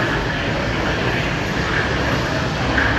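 Airplane engine running loudly and steadily near the aircraft's parking stand at an airport, a constant close roar with no talk.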